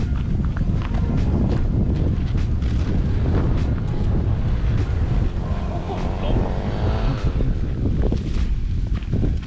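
Strong wind buffets a microphone outdoors at a bamboo and banana planting site in Li district, Lamphun, making a loud, continuous rough roar with irregular gusty bursts throughout.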